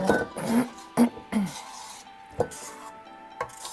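A spatula or spoon scrapes gooey cinnamon-roll dough around a mixing bowl, making several short clinks and knocks against the bowl with scraping strokes between them, close and fairly loud.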